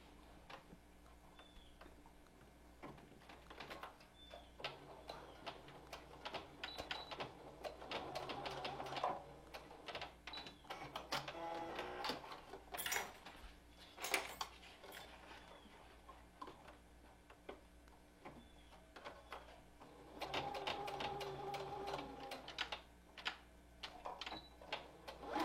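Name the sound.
sewing machine stitching the ends of a fabric mask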